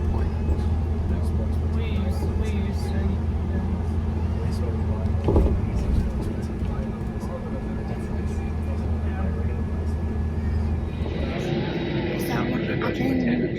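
Bus ride from an airport to a plane: a steady, loud engine drone and road rumble fill the whole passage, with a brief thump midway and rising hiss and rattle near the end.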